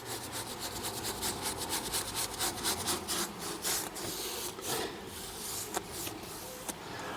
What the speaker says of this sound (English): twist your brush around as you're brushing and lay off with that grain